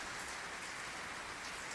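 Steady rain falling on surfaces outdoors during a Zen meditation session, an even, dense hiss of drops with no voices over it.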